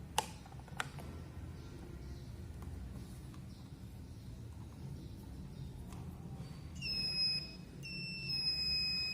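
A multimeter set to continuity mode lets out a thin, high electronic beep near the end, broken into a couple of short tones. Before it there are quiet background rumble and a few small clicks as the probes are handled. Nobody talks.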